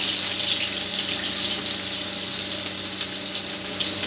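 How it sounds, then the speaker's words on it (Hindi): A bay leaf and two medium onions sizzle in hot oil for a green chickpea pulao. A steady, close, loud frying hiss runs throughout with no talking. "अब मैं इस ऑयल में ये तेज पत्ता डाल रहा हूँ और उसके साथ ही मैं इसमें दो दरमियाने साइज के प्याज हैं वो मैं इसमें ऐड कर रहा हूँ"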